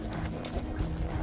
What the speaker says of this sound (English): I'm riding this horse